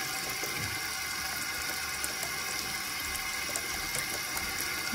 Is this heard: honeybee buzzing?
no